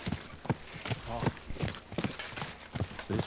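Hooves of a horse clop at a steady walking rhythm in Kingdom Come Deliverance 2, fairly quiet and close, with a voice talking over part of the steps.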